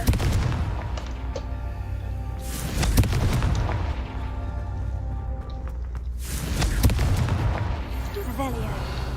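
Confringo explosion spells booming in Hogwarts Legacy, several loud bursts with rumbling tails standing out over continuous game music and effects.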